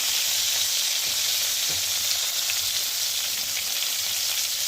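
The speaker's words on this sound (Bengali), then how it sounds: "ফুলকপিটা মোটামুটি একটু আধটু করে নেড়ে নেড়ে এখানে ভাজাভাজি করছি আমরা হালকা হালকা করে।" Cauliflower stir-fries with a little oil and turmeric in a pan, a steady, even sizzle heard close up with faint stirring bumps beneath it and no voices.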